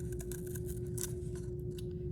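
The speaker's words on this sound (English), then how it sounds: "Try to keep my scissors mostly straight. Just cut a little bit." Scissors snip cardboard for a homemade weaving loom in a series of short, close cuts, layered over a steady low hum.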